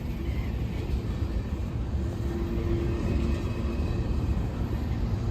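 A train passing a level crossing in Plant City, Florida, a steady, loud, continuous rail rumble close by, with no voices.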